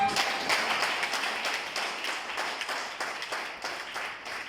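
A crowd applauds at an event, with many hands clapping in a brisk, rapid patter that holds fairly even and moderately loud throughout.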